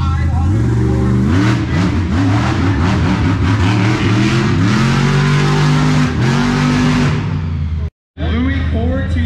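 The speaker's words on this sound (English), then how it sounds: "this is monster trucks. I've never seen a monster truck show before." Monster truck engine at a state fair show roaring through repeated revs, loud and near, pitch climbing and dropping in waves, with crowd noise and a voice underneath before a brief cut to silence.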